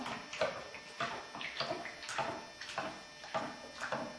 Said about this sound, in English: I've got my wooden ladle here. I'm going to stir this up.